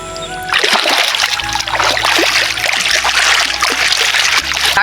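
Water from a small irrigation channel trickles and splashes as someone plays in it: close, continuous splattering and dribbling with irregular splashes over a steady running-water bed.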